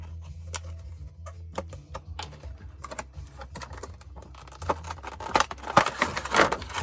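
A plastic packaging tray is cut out toward its edge with a series of sharp, close clicks and snips, sparse at first and then quicker and louder, with no speech.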